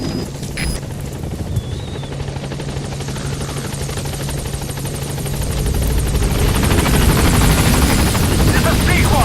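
Pequod, the transport helicopter in Metal Gear Solid V: The Phantom Pain, hovers at a landing zone and gains altitude, its steady rotor chop and turbine roar close and loud, swelling toward the end.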